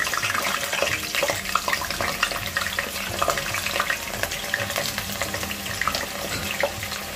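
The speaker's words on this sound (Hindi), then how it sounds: "अब इसमें डालेंगे अपन पहले आलू आलू तल लेंगे" Potato pieces frying in hot oil in a home kitchen, a steady, close sizzle and bubbling hiss with faint stirring and clinks running throughout.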